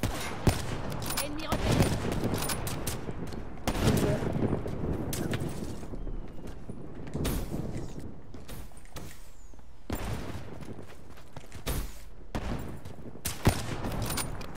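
Bursts of automatic gunfire and repeated shots from Call of Duty: Black Ops III, loud and close, coming in dense volleys with brief pauses, with game sounds and some voice activity mixed in.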